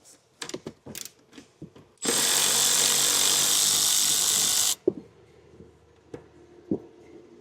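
A T40 Torx screw is removed with a tool while a tail light converter is installed on a 2022 Mercedes. Scattered ratcheting clicks lead into about three seconds of loud, steady powered whirring, followed by a few more sharp clicks.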